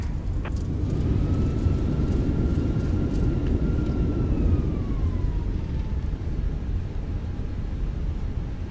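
A Boeing airliner in Microsoft Flight Simulator 2024 roars steadily at takeoff power, a loud, continuous broadband engine rush with a thin high whine slowly gliding downward over it.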